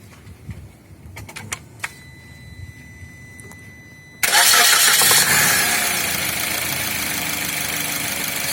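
A Suzuki Ertiga engine, just tuned up, sits quiet with faint clicks, then cranks and catches abruptly about halfway through, settling into a loud, steady idle that carries to the end.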